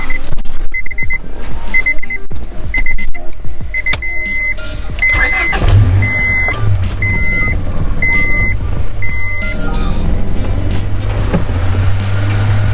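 A Honda Prelude engine with a newly installed big throttle body cranks and catches, then settles into a steady low idle while a repeating electronic beep chimes over it at regular intervals.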